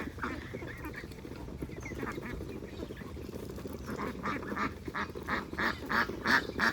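Ducks quack repeatedly on a small farm where they are raised for eggs, over a steady low background murmur, the calls growing louder and more frequent toward the end.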